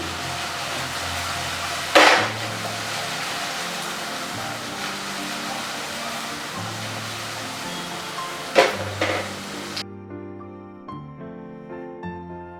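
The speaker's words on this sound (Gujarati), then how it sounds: "હવે બધું મિક્સ કરીએ।" Okra (bhindi) stirred in a pan makes a steady sizzle with two sharp scraping clanks of a utensil against the metal, loud and close, before the cooking noise cuts off to a quiet background of music.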